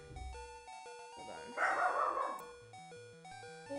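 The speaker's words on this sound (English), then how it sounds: "And now my dog is barking." A pet dog barks in a room while a Pokémon Red game plays, the barks coming as a loud burst under the game's chiptune music, somewhat distant and mixed with the looping melody.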